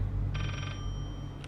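Telephone ringing in the horror video game Layers of Fear: one bright electronic bell trill at moderate level over a steady low background hum, followed by a short faint ring-like blip near the end.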